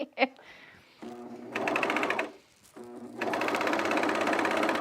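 A serger runs over the knee seam of a pair of trousers in two steady, loud bursts of close, fast-running motor hum, separated by a brief pause, with a short handling knock at the start.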